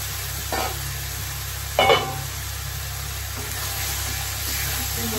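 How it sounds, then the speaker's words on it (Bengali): Pieces of fried fish go into spice paste that is already sizzling in a pan, a continuous close frying hiss with two brief louder bursts of stirring and scraping as they are added. "মশলা কষানো হয়ে গেছে, এই যে ভেজে রেখেছিলাম একসঙ্গে তুলে দেবো।"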